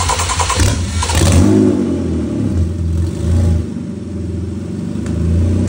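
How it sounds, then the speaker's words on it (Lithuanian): A BMW S55 engine runs on a pallet outside the car, a loud close mechanical rumble that revs briefly near the start and then settles into a steady idle with mild swells. "kaip dirbo variklis ant paletės"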